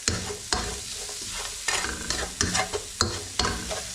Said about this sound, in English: when they're fried for a couple of minutes, we then put in your brown sugar